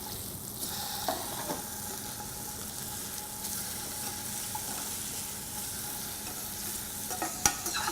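Halibut fries in a pan with a steady, quiet sizzle throughout, broken by a few soft scrapes and taps as a spatula works under the fish.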